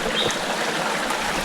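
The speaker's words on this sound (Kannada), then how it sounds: "ಭದ್ರಾ ನದಿ" The Bhadra river flows along the Kudremukh trek route as a continuous, moderately loud rush of stream water. The hiss is even, with small trickling splashes and no voices.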